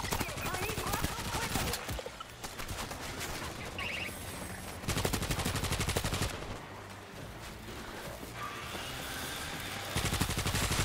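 Rapid mounted machine-gun fire in the video game World War Z, dense loud bursts continuing across the whole stretch with brief lulls, mixed with game effects and a voice talking over it.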